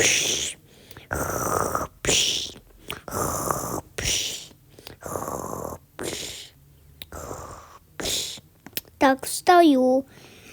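A person imitates snoring with the voice, a run of loud, close, rhythmic breathy snores with short pauses between them, ending in a few rising squeaky vocal sounds.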